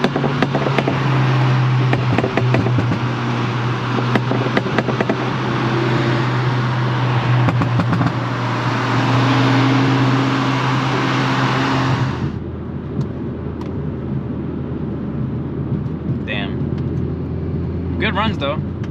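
A Volkswagen Golf R accelerates hard in a roll race against a GTI, heard from inside the car as a loud, steady engine drone with rising pitch that cuts off sharply partway through into quieter cruising with a voice in the cab.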